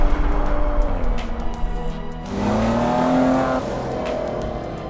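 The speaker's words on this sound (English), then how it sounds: "They tune the signature Maserati sound as well." A Maserati engine revs up through rising and falling pitch sweeps, loud and close with a steady throaty drone and no talking.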